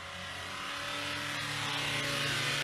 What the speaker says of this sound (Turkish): Arabanız bir anda son gaz çalışmaya başlar.